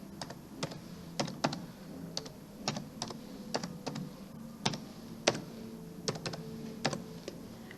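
Password being typed on a computer keyboard, a steady run of sharp key clicks at an uneven typing rhythm, close and clear over faint room noise, with no voices.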